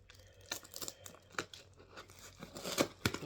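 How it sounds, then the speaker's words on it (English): Knife blade slicing through a cardboard mail package, heard up close as a quiet series of scratchy tearing and crinkling strokes with a few sharper rips near the end. "Let's just cut the other side here."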